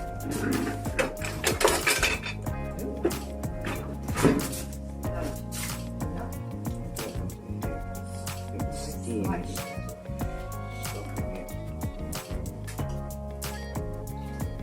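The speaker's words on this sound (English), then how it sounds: "When I tap this side, my spoon moves" A spoon tapping against the side of a pot during batch cooking, several light metallic clinks scattered under steady background music and talking.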